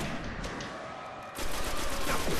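Heavy gunfire in the PS4 video game Destiny, a dense burst of rapid shots that starts suddenly partway through and keeps up loud and continuous under a steady game soundscape.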